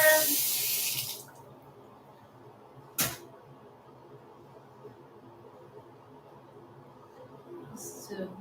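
Water pours and splashes loudly for about a second while freshly washed hair is rinsed, then cuts off, leaving a quiet room with one sharp knock partway through and a faint rustle at the end.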